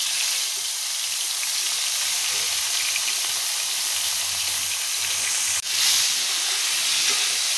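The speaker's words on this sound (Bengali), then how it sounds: "এখন বেগুনগুলো হালকা করে ভাজা করে নেব।" Salted eggplant slices fry lightly in hot oil, giving a steady, loud sizzling hiss throughout with one brief dip near the end, and no talking.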